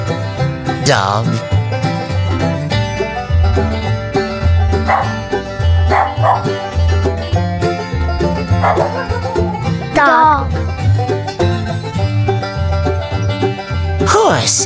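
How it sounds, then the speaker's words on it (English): A dog barks and yips in short scattered bursts over continuous bouncy background music. "Dog."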